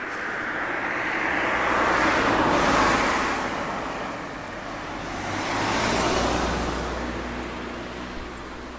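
A former Schnitzer BMW 635 cruises slowly along a mountain road, giving a continuous broad rush of road and wind noise with a low engine drone that swells and eases gently.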